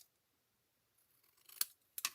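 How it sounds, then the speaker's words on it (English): Scissors snip through cardstock while trimming a slider card, two short crisp cuts near the end after a quiet lead-in, close and fairly loud with no talking. "I'm just going to trim that a little bit more."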